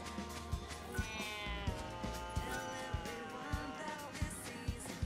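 A cat meows repeatedly inside the video game Final Fantasy XIII-2, with several short, clear mews over layered in-game music and background ambience.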